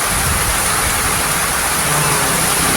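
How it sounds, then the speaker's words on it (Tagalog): Heavy rain falls steadily outdoors over a dry, cracked field, making a dense, loud, unbroken wash of noise with no pauses. "May kalating oras na umulan mga idol."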